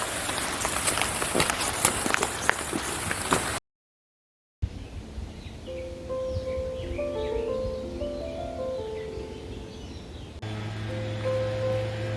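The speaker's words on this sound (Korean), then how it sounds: "비가 너무 많이 와요." Heavy rain falls on a backyard vegetable garden, a dense steady hiss of drops on leaves and ground, with a brief gap partway through and a low hum joining near the end.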